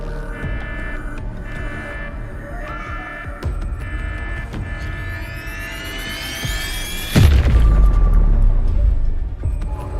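Within the Wuthering Waves video game, a fortress blows apart: a humming, throbbing buildup with rising tones climaxes in a deep, loud booming blast whose heavy rumble lingers for seconds, with no talking over it.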